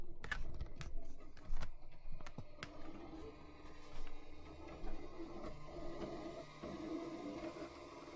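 A 3D printer running nearby, with whirring stepper-motor tones that rise and fall in pitch, a steady mechanical hum, and a few sharp clicks and taps early on.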